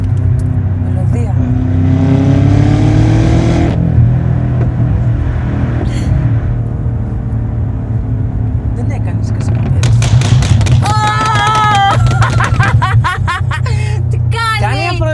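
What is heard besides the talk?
BMW M5 Stage 2 engine revving with exhaust pops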